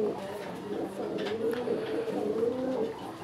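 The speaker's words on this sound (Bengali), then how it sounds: "এটা হচ্ছে আরেক জোড়া গোপালগঞ্জের বড় পায়রা" A pair of large Gopalganj pigeons coo steadily up close in low, rolling, overlapping calls, with some faint talking in the background.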